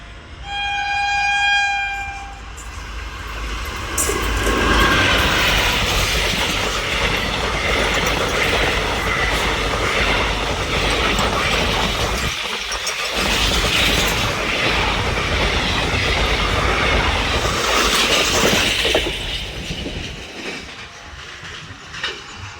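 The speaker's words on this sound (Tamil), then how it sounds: "வராருங்க நம்மளோட train number 22658 Nagercoil Tambaram super fast express" Nagercoil–Tambaram superfast express hauled by a WAP-4 electric locomotive, opening with a loud horn blast before the train thunders past close by with sustained rumbling and rhythmic wheel clatter, fading out at the end.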